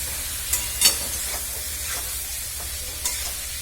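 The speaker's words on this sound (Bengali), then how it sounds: "এবার চিকেনটা আমি এটার সাথে ভেজে নেবো একটুখানি" Chicken pieces fry with spices in a pan for a Bihari chicken curry, a steady close sizzle broken by a few scraping stirs.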